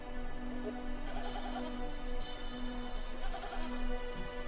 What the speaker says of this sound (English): Two Bedouin shepherds are moving a herd of goats along the cliffs of Qumrun